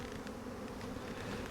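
Honey bees buzzing steadily at an opened hive while a capped brood frame is lifted out, a dense continuous hum with no voices.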